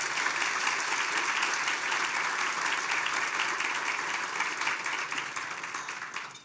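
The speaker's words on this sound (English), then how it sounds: "A round of applause for all our sponsors." Sustained applause from a sizable audience at an awards ceremony, dense and even clapping that carries on for several seconds before tapering off at the end.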